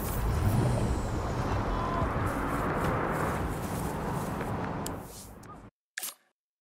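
A truck engine rumbles loudly and then a sharp air-brake hiss sounds in the video game Saints Row, followed by a sudden drop to silence and one brief final burst.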